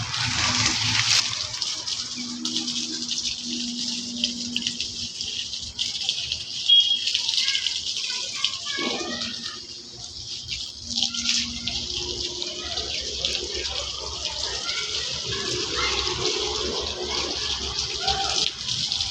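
Water running from a tap at a home, a steady hissing flow with light rattling and splashing, continuing throughout while someone talks over it.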